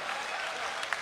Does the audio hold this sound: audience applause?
yes